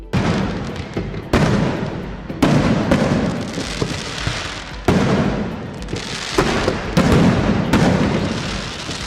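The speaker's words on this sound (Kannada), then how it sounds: "ಮಧ್ಯರಾತ್ರಿ 12 ಗಂಟೆಗೆ ಅರಮನೆ ಬಳಿ ಮುಗಿಲೆತ್ತರಕ್ಕೆ ಪಟಾಕಿ ಸಿಡಿಸಲಾಯಿತು." Fireworks bursting high in the sky near Mysore palace at midnight during New Year celebrations, a dense run of loud booms and crackling bursts with several sharp detonations standing out, continuous and close with no talk.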